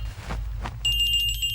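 Telephone ringing in a scene from the South Indian film Judwaa No 1: a steady electronic ring starts partway through and holds on, loud and continuous over faint background noise.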